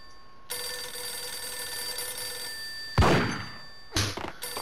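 A telephone in the Max Payne video game rings with a continuous electronic bell tone, followed by two loud, sharp bursts, likely gunshots or impacts, with no talking.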